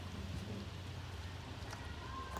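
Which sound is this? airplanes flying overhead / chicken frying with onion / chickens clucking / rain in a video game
rain in a video game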